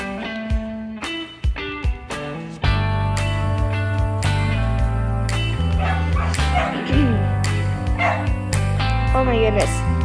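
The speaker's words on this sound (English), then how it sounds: "Abby, can you not make Oakley bark a lot?" A dog named in the conversation barks and yips repeatedly during a roleplay meetup, its sharp calls loud and close over steady music and talk.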